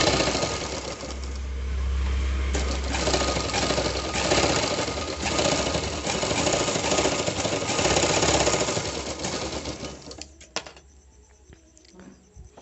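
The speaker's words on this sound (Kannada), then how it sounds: "ಇದನ್ನು ಸ್ಟಿಚ್ ಮಾಡಿಕೊಂಡು ಸೀದಾ ಮಾಡ್ಕೊಳ್ಳೋಣ ಪೀಸ್ನ" A sewing machine runs steadily for about ten seconds, stitching a 2-inch fabric strip for a saree blouse design. The motor whirs loud and close with a fast rhythmic needle patter, then stops. Only faint clicks follow, and no one talks.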